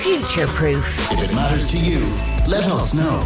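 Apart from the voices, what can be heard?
No distinct noise like a dog, phone or traffic.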